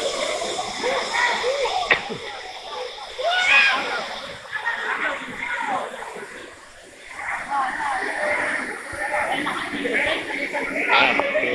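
Balagbag Falls, a tall two-tiered waterfall, roars as a steady wash of splashing water while people talk over it throughout.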